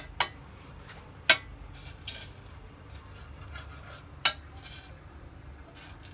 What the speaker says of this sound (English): Now I'm going to mix the blueberries.